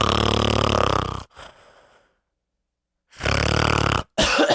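A voice imitates an exaggerated snore: a loud, rough, rattling inhale, a short breathy tail, a silent pause, then another long grating snore and a final brief snort.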